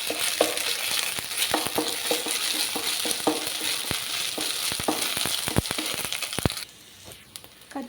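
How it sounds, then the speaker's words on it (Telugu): Curry leaves and ginger frying in a pan for a ridge gourd chicken skin curry, a steady crackling sizzle with scraping stir strokes, close and loud, then dropping away to quiet near the end. "కొద్దిగా అల్లం కూడా వేసుకోవాలండి. పచ్చివాసన పోయే వరకు వేయించుకోవాలి."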